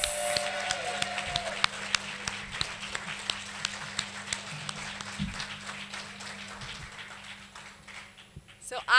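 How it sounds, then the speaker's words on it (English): Scattered clapping from a modest crowd, with distinct individual claps ringing out over a steady hum before fading toward the end. "Let's have a big round of applause."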